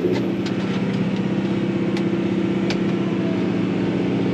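A tractor engine for maize sowing runs at a loud, steady throttle right up close. Its deep, even hum holds unchanged throughout, with a few faint clicks on top.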